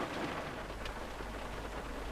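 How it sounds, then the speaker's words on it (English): Heavy rain falls steadily outdoors, a dense, even hiss of downpour with no break, heard alone and at moderate volume. "the rain's still coming down"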